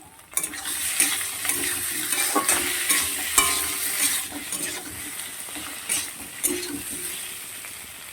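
Chopped tomato hisses and sizzles in hot oil in a pan while a utensil stirs it, scraping and clinking at irregular moments over a steady close frying crackle.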